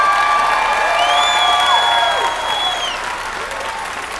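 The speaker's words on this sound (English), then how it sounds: "One more giant round of applause for our directors and our teachers for all their hard work with this." An elementary school holiday concert audience gives loud, sustained applause for the directors and teachers, with cheers and whoops from children rising above the clapping before it gradually tapers off.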